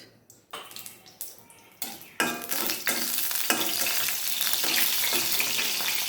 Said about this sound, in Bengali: এখন আমি বাগার দিয়ে দেবো। আমি এখন তেল দিয়ে দেবো 1 টেবিল চামচ।